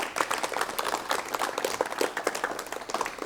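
A studio audience claps in welcome for a guest on a 1980s Korean television talk show, a dense spread of hand claps that carries on steadily and moderately loud throughout.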